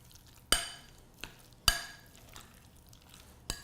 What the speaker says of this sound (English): I'm just going to give this a little bit of a stir